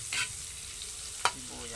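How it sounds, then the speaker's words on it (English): Garlic frying in a pan for beef cheesy spaghetti, a steady soft sizzle with two brief louder stirring scrapes, close up and without talk. "Bawang, lagay na natin yung bawang."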